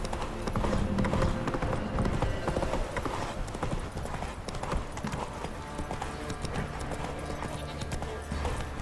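A busy clatter of horse hooves from the video game The Witcher 3: Wild Hunt, dense and fairly loud, with a brief whinny-like sound amid a noisy background.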